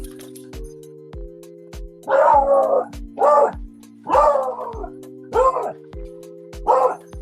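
A beagle barks in loud bursts, about five separate volleys with short gaps, over a steady low electronic hum and a regular ticking pulse.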